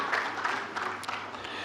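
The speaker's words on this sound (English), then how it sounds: "Please, I will give him a round of applause." A brief, fairly faint round of applause at a surveyors' and valuers' institution lecture and fellows induction, steady patter of clapping over a low hum of the hall.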